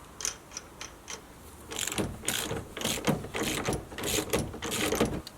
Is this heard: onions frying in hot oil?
no